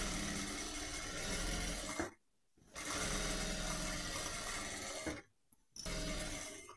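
Domestic sewing machine stitching elastic onto a pair of shorts, a steady close mechanical whir in two long runs broken by short pauses.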